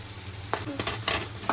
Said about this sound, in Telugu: అవి కొంచెం హై ఫ్లేమ్లో పెట్టుకొని ఫ్రై చేసుకోవాలండి.